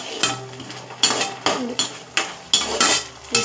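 Spoon scraping and clanking against a pan while stirring spicy baby corn manchurian, several sharp metallic strokes in an irregular rhythm over a faint low hiss, close and fairly loud.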